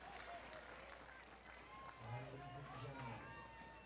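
A beach volleyball crowd at the Hermosa Beach Open men's semi-finals claps and cheers, moderately loud but somewhat distant, while a commentator talks over it.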